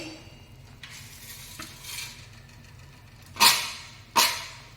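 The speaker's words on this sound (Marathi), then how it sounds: "हे आपल्याला कंटिन्यू हलवायचं आहे" A spoon stirs a Mysore pak mixture with ghee in a pan, giving soft low scraping with a faint sizzle, then two sharp, loud scrapes near the end.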